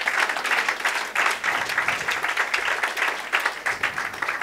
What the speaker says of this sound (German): Und gib ihm einen Applaus heute